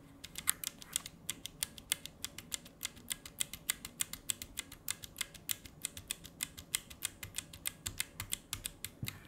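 A mechanical keyboard with Red switches and its keycaps removed is typed on steadily, giving a quick, even run of close, crisp clicks and clacks.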